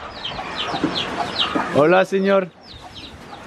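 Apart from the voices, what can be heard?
chickens clucking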